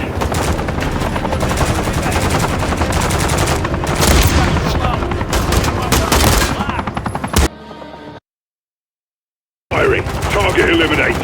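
Dense gunfire in the video game Call of Duty Modern Warfare III: loud, continuous rapid shots with game voices mixed in, cutting to a brief silence before the firing resumes.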